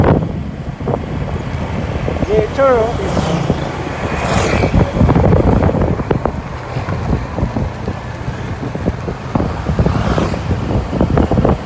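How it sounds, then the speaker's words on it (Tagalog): Strong wind buffets the microphone on a sightseeing trip through Silang, Cavite, with loud, uneven low rumbling gusts throughout and brief voices passing over it. "Ayan, malakas yung hangin."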